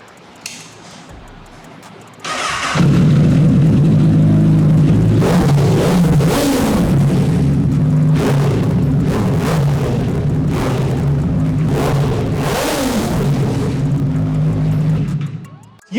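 A powerful 1000cc superbike engine starts and revs hard, roaring loudly nearby in repeated throttle blips before cutting off abruptly.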